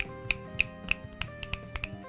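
Fingers snap in an appreciative audience manner, a quick run of about eight sharp, crisp clicks at a fairly even rhythm against a sustained musical background.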